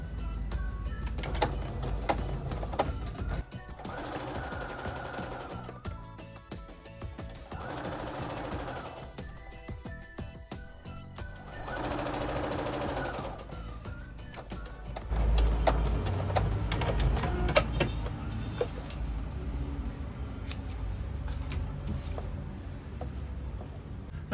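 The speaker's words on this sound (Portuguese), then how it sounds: "vou passar uma costura reta no meio da cianinha" A sewing machine runs a straight seam down the middle of ric-rac trim on a dish towel, a loud mechanical whirring hum in several bursts separated by short pauses, with no speech.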